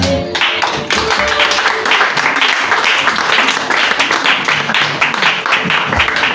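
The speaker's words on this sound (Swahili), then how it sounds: "Tunaongeza makofi." A church congregation claps in applause during a Swahili worship service, a dense, steady wash of many hands sustained for several seconds at close range, with no voices rising above it.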